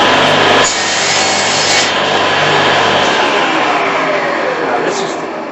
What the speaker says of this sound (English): I'll show you the way that the timber is held underneath the clamp and it doesn't fall when I cut it